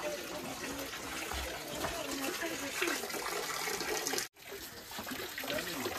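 A stream of spring water flows steadily in Meghalaya, a continuous close rushing gurgle with a brief cut near the end, while people talk over it.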